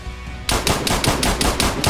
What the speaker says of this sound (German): Ich schieß mal.